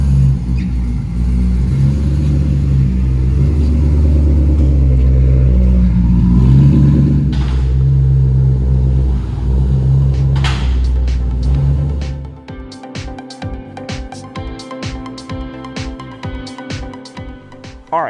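A Maserati on a newish clutch pulls hard with a loud, steady engine drone. Around twelve seconds in, the sound breaks off sharply as the gear change into third comes, and quieter clicks and knocks follow.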